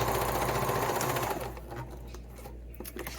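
A sewing machine stitches a seam on a knit winter beanie or elf hat, running as a loud, steady, close whir that slows and eases partway through.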